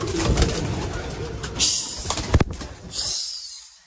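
Young pigeons are fed, with soft cooing and bird calls close by, broken by sharp short bursts of fluttering and handling noise; a voice speaks faintly in the background.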